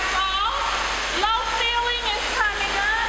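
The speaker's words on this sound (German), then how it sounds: "Ein künstlicher Wasserfall!" An artificial waterfall pours with a steady, broad rushing hiss, constant and fairly loud, while voices carry over it.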